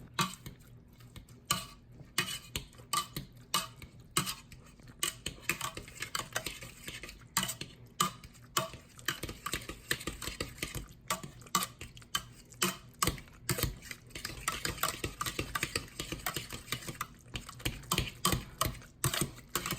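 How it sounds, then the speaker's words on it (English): Cooked potatoes are mashed in a pot with butter, salt, pepper and milk: steady, rhythmic knocking and squishing clinks of a masher against the pan, fairly close, with no talking. "All right, and we're gonna start mashing."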